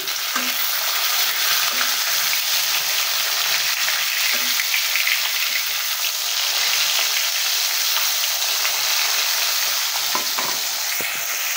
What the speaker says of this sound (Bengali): তো মাছগুলো এখন উল্টে দিচ্ছি।